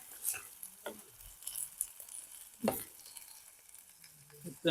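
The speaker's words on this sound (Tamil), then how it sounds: "இதையும் கொஞ்ச நேரம் இந்த எண்ணெயிலேயே அப்படியே பொரிச்சு எடுப்போமா." Fish frying in a pan of hot oil gives a steady, close sizzle, broken by a few sharp clinks and scrapes of stirring.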